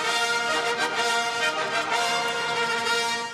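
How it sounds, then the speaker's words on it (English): Trumpets sound a sustained, bright, brassy fanfare at the royal proclamation of King Charles in London. The chord holds loud and steady for several seconds with no speech. "The blast of trumpets"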